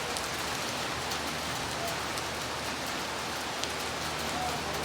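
Rain falling on a sunny day in Hyderabad, a steady, even wash of drops hitting surfaces, continuous and moderately loud with no break.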